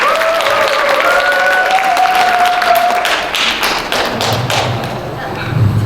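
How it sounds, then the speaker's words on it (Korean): Applause from the audience at a Korean company New Year gathering greets a business owner coming up to share his story, with dense steady clapping and a few thumps, briefly under a voice at the start. "여러분 박수 부탁드리겠습니다."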